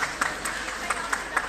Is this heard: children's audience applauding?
yes